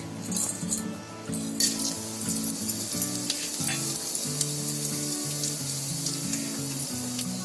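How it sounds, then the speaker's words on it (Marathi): Whole cumin, green cardamom, cloves and black peppercorns crackle and sizzle in hot oil, a steady dense frying hiss with faint pops and a low hum running beneath, close and fairly loud, no talking. "त्याच्यामध्ये अर्धा चमचे जिरं, 1 हिरवी वेलची, 2 लवंग आणि 4-5 काली मिरी हे आपल्याला त्या तेलामध्ये टाकायचे आहेत."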